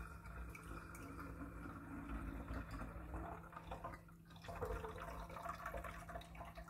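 Homemade fruit kefir is poured into a 1.5 litre jar and one-litre bottles, giving a faint, continuous trickle and splash of liquid with quiet background noise.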